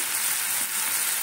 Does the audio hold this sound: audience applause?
no